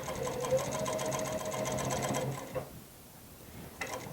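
A sewing machine runs steadily while stitching a twist cord seam with a half-inch allowance, then stops for about a second before briefly starting up again.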